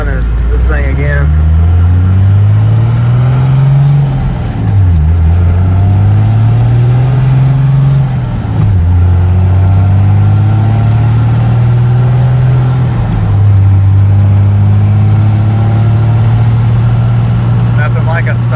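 A stock 1990 diesel truck with a 500,000-mile Cummins engine and 5-speed runs loud and close, its low drone rising and falling through several rev changes, with someone talking over it.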